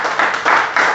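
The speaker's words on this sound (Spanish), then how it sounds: "Bríndale un fuerte aplauso al Señor por eso." A church congregation claps briefly for the Lord, a short burst of several hand claps coming in quick waves, close and clear.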